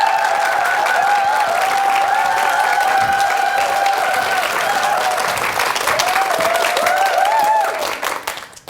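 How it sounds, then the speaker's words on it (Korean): Loud, sustained applause from a lecture audience welcoming a vice chairman to the stage, thick clapping over tonal background music, continuing evenly before fading away at the end. "이재한 부회장님을 여러분 뜨거운 박수로 초대하겠습니다."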